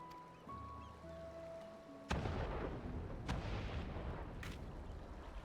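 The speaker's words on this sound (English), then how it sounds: "Or we could just follow the explosions." Explosions in Final Fantasy XIV: a sudden loud blast breaks over quiet game music, followed by heavy rumbling and further sharp booms close by.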